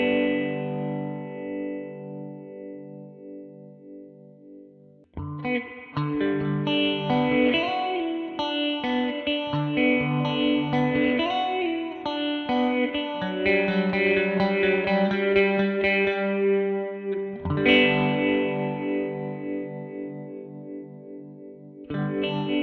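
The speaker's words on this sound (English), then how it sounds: "now we're hearing a cool phaser-esque tremolo" Guitar run through a ring modulator pedal with the frequency control turned up, producing a swirling phaser-like tremolo over strummed chords and sustained notes, played loud and up close without speech.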